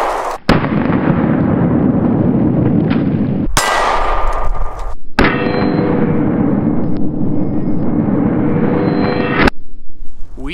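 Handgun shots fired with an Olight PL-Mini 2 weapon light mounted, heard as several loud, sharp reports, each followed by sustained noisy ringing.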